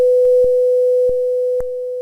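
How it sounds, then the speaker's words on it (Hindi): A steady pure test tone from a speaker hums continuously, interrupted by a few faint clicks, with its volume stepping down slightly partway through as the amplitude is lowered. "ये वो आवाज़ है जो स्पीकर प्रोड्यूस कर रहा है।"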